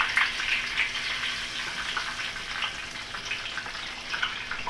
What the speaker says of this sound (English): You can hear that frying already